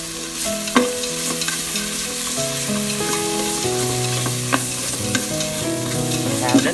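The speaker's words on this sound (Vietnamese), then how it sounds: "Thì bây giờ mình sẽ cho cái phần thịt vào mình xào nha." Meat stir-fried in a hot pan for a Vietnamese papaya and pork bone soup: steady close sizzling with occasional scraping stirs, over soft background music.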